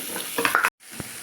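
Chopped onions hit a hot pan and fry with a sharp, close sizzle and a few stirring scrapes, then cut out briefly before a single knock and quieter frying.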